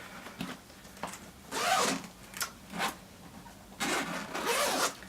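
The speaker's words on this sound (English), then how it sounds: "this back actually zips open, so let me show you" The zipper on the padded back panel of a camera bag is pulled open in several short, close, raspy bursts separated by brief pauses and soft rubbing of fabric.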